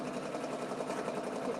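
An embroidery machine stitching an in-the-hoop stuffie runs with a steady, close mechanical whir and fine rapid stitching rhythm, continuous and fairly quiet, with no voices over it.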